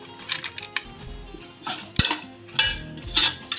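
Biryani masala and chicken masala are stirred into a cooker for Tamil Nadu style biryani, with a metal spoon scraping and clinking against the pot in irregular, close bursts and no one speaking.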